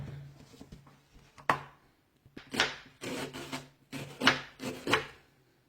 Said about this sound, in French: Et là, je vais découper les oignons.